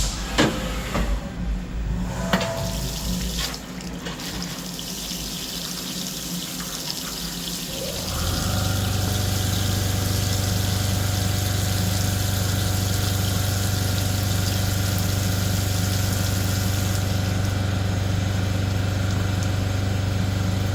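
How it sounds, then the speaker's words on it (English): Machine tapping holes straight through with a tap in a spring-loaded holder while coolant streams, a loud steady hiss and hum of running coolant and spindle that steps up in level partway through and holds continuously. "we're going to tap these 3 holes all the way through"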